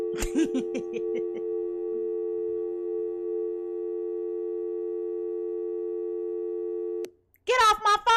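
A telephone line tone holds steady for about seven seconds and then cuts off abruptly, with a voice talking briefly at the start and again after it stops.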